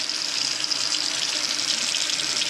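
Shrimp rinsed under a running kitchen tap, an even, hissing stream of water splashing steadily for the whole stretch, close and loud with no talking.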